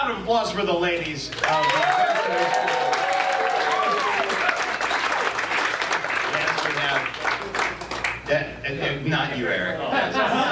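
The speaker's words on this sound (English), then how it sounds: "How about a round of applause for the ladies?" A live audience at a 2016 charity comedy show breaks into loud, sustained clapping that lasts the whole stretch, mixed with chuckles, cheers and voices calling out from the crowd.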